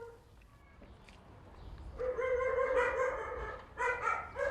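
Stray dogs being picked up for a shelter in Sulaymaniyah bark and yip nearby, a few faint whimpers first, then loud repeated barking in two bursts.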